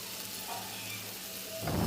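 Ground onion paste and curry powder sautéing in hot oil for a curry puff filling, giving a steady soft sizzle that brightens into a louder burst of frying near the end, with no talking.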